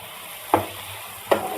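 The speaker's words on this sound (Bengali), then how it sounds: "একটুখানি হালকা নাড়বো ক্যাপসিকাম দিয়ে।" Capsicum is stirred into frying masala in a pan for pudina rice, with two distinct spoon scrapes against a soft, steady sizzle and no talking.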